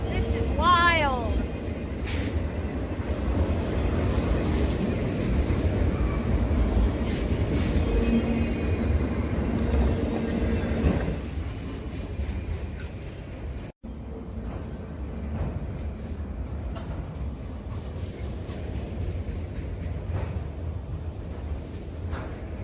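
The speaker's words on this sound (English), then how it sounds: "another train is coming, and I'm inside the car, and here it comes" A train passes a car waiting nearby with a heavy rolling rumble and an early rising horn-like tone. The rumble fades after about eleven seconds, and a person talks over the noise.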